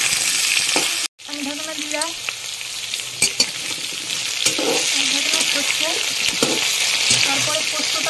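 A covered pan of mixed vegetables frying makes a loud, close, continuous sizzle and crackle. It cuts out briefly near the start, then resumes with scattered pops and faint voices in the background.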